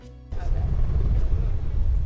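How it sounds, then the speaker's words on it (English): Steady low rumbling rotor drone of a helicopter nearby in Nepal's Everest region, fairly loud and continuous, rising abruptly after a brief quieter start. "That's a helicopter sound."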